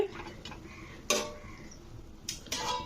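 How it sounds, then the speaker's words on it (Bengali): A lid is set on a pan of yardlong beans simmering in water, giving a couple of faint metallic clinks and light taps over quiet kitchen background. "আমি একটা ঢাকা লাগিয়ে দিচ্ছি বরবটিগুলোকে সেদ্ধ করার জন্য"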